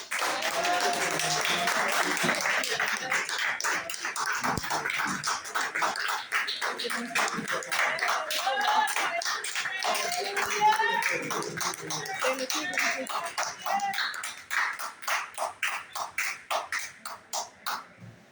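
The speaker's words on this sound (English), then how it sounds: "give us a big round of applause" Church congregation in the Caribbean clapping for the children, a long round of applause at moderate distance that breaks into looser scattered claps and fades toward the end.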